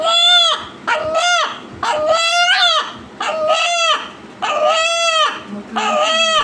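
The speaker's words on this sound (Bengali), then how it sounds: "ঠিক তখনই মোরগের কণ্ঠে আকস্মিক শোনা যায় আল্লাহ" A rooster crows in a series of loud, close, drawn-out calls with short gaps between them, its voice sounding like a repeated word.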